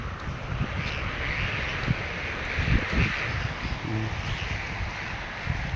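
Strong wind blowing across a hot farm field planted with eggplant, a constant loud rushing buffet on the microphone with gusty thumps and rustling throughout.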